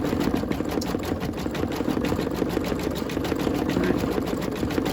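An embroidery machine stitches out a turkey mug rug, its needle pounding in a fast, even, continuous rhythm close up, running alone without speech.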